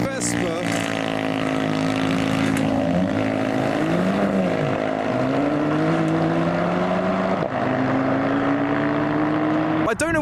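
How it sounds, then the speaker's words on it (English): A steady engine drone fills the scene as a noisy Vespa scooter passes close by, its pitch shifting and sliding, with another engine rumbling underneath. "another pair of cars leaving and a noisy Vespa."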